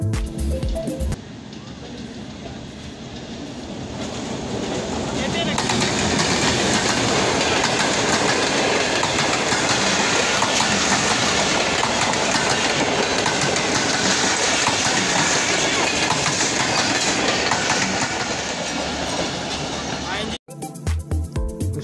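A train passes through Rao Khan Wala railway station with a loud, sustained rumble and rhythmic clickety-clack of wheels over the rails, building up and holding for nearly twenty seconds before cutting off abruptly.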